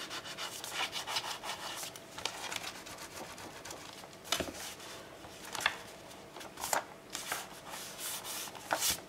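Paper is rubbed down by hand onto a page of a baby scrapbook album, making steady close scratchy swishing strokes with a few firmer presses and no talk.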